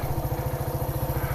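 A motorcycle engine idles in neutral close by, a steady low, rapid putter with an even pulsing rhythm and no talk over it.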